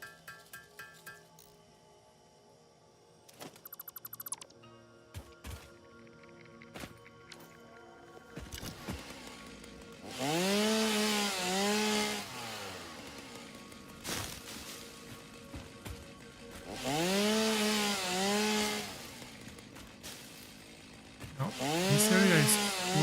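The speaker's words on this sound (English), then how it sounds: "Well, I need to get my chainsaw working." Chainsaw in the video game Satisfactory, preceded by scattered clicks and beeps, then several loud revving bursts that rise and fall in pitch with quieter idling between them.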